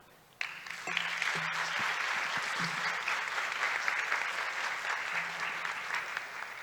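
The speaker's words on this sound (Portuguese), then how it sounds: "E agradeço, enfim, palmas para ela." An audience at a conference on comfort applauds a speaker, steady hall-wide clapping starting abruptly and holding evenly, a few voices faintly beneath it.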